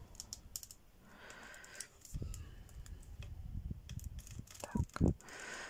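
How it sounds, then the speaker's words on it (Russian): Snips from scissors or cutters trimming woven paper tubes on an openwork basket, several close crisp cuts with light handling rustle, two sharper clips near the end, no talking. "вот эти вот трубочки, то, что у нас мы закладывали, я их и обрезаю"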